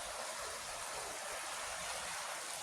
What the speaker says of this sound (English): Look at this beautiful waterfall.